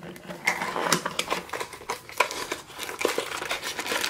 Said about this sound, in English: let's kind of cut open the little pieces of tape here and pop this thing open